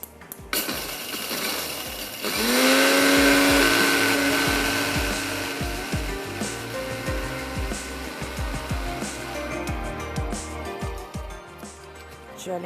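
An electric grinder whirs loudly as it grinds roasted poppy seeds and fennel, starting with a rising surge and then holding a steady, rattling drone with grainy clatter throughout.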